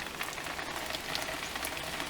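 Rain falls outdoors as a faint, steady hiss of drops pattering on surfaces, with no voices.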